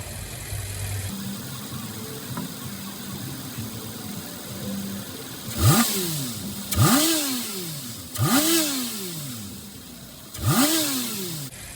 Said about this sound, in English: the motor's changing its sound again